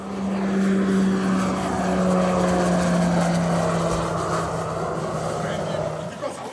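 An Air Guyane bush plane's propeller engine drones steadily inside the cabin, a loud continuous hum with a few sustained tonal lines, while a voice talks over it.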